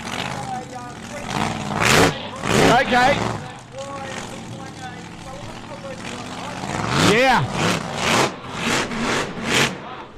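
A supercharged race car engine revs hard in repeated loud throttle blips and swelling roars, some with a pitch sweep as it passes, while a few short spoken words sit underneath.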